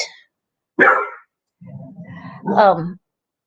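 A dog barks a few times up close, sharp yaps separated by short pauses, with a lower growly bark near the end.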